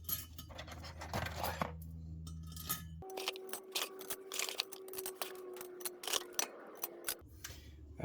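Metal valve spring parts set one by one into their recesses in a cylinder head for a 3UZ-FE engine build: a string of sharp, close metallic clicks and light taps with small clinks between them, no talk.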